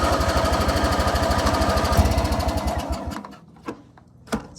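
A $20 riding mower engine cranks hard with a rapid, rhythmic chugging for about three seconds, then dies away, leaving a few faint clicks and knocks.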